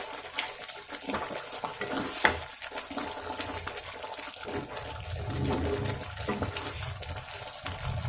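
Malabar chicken curry with fennel powder and garam masala being stirred in a pan, a continuous bubbling, sizzling wash with soft scraping mixed in, close and steady throughout.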